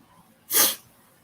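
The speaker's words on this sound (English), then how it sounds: "Nobody even blessed me when I was sneezing." A single sharp sneeze bursts out close by, brief and loud against near silence.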